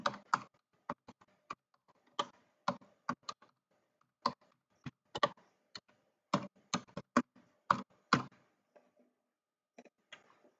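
An organization's name typed on a computer keyboard into a Word document: quiet, close individual key taps in an uneven rhythm with brief pauses, thinning out toward the end, in otherwise silent surroundings.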